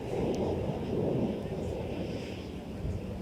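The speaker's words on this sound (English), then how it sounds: "Here's a northside departure, another Embraer 175 LR." An Embraer 175 LR jet departing Minneapolis airport gives a broad, continuous roar, fairly loud and steady, rising slightly then easing, with faint talk underneath.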